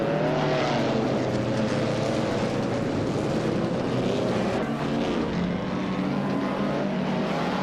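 IndyCar race cars roar continuously around a tight-cornered track with high-speed straights in a racing video game, a dense, steady engine drone that stays loud for the whole stretch, with no talking.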